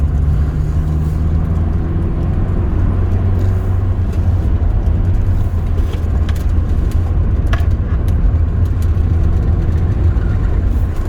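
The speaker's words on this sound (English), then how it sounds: "a very little petrol engine, just snarling away all happy" A very small petrol engine in a car snarls steadily while driving, a loud, close, continuous buzzing drone with road noise that holds throughout without talking.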